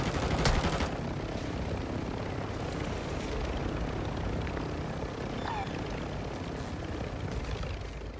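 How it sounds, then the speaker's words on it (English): A helicopter thrums in a multiplayer shooter video game, a steady, close rotor drone running throughout with a few sharp impacts early on. "Chopper's gonna squash me."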